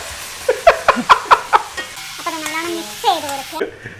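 Chicken frying in a pan and being stirred, a run of sharp rhythmic scraping strokes over a sizzle, followed by a person laughing close by.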